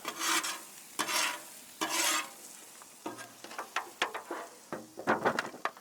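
Seasoned potatoes with salt, pepper and garlic tossed and mixed on a hot flat-iron griddle: repeated scraping, stirring strokes with bursts of sizzle, close and fairly loud, quickening toward the end with no voices.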